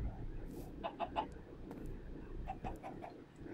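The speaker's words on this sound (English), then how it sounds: "Oh hey, look, it's a chicken." Chicken clucking in the video game Minecraft, a few short, faint clucks in two small bursts over low background hum, with no talking.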